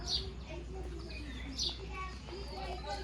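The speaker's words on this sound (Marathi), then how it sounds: "सर्व सगळे चिमण्या राहतात त्याच्यामुळे सकाळचा शूट असला तर चिमण्याचा आवाज येतो" Sparrows chirp in brief high tweets at intervals in the morning over a low steady background hum.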